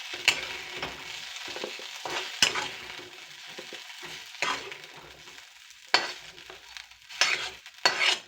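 Stuffed chili fritters sizzle in oil in a kadai as a spoon stirs them, with steady frying hiss broken by several louder scraping bursts.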